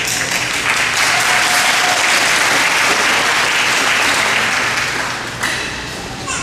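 A graduation audience gives loud, continuous applause for a student called to stand, a thick wash of clapping that holds for about five seconds before dropping to a lighter patter.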